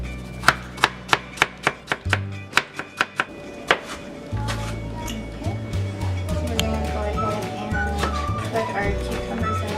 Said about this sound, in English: keep cutting the cucumber into small squares